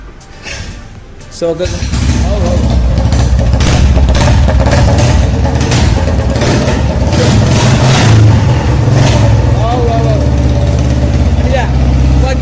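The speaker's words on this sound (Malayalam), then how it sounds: "നമ്മൾ ഈ ഒരു ഓൾഡ് മോഡൽ വണ്ടി ജസ്റ്റ് സ്റ്റാർട്ടാക്കി വെക്കാണ്" An old 2003-model motorcycle engine starts and runs loudly nearby, a steady throbbing idle with occasional revs and voices talking over it.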